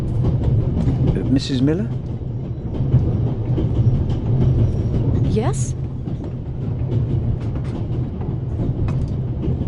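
Inside a moving train, a steady low rumble rolls on under the voices of people talking, with faint rail clatter and a couple of short squeals.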